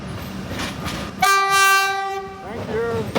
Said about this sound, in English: If I ask him to honk, do you think he'll do it?